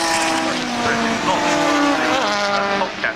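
Race cars including a Seat Leon and a Ferrari 430 roar past at Brands Hatch GP, engines rising and falling in pitch as they go by close and loud, with a commentator talking over them.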